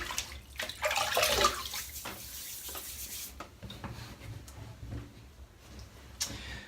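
Water splashed and rubbed onto a head before a head shave with a PAA Bakelite slant razor, a close, rushing burst that fades into quieter wet dabbing and drips.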